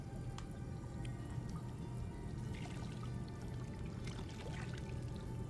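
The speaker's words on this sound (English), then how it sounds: "Turn the water off." Tap water runs steadily into a sink in a video game, a continuous splashing pour with faint drips, moderately loud and without talking.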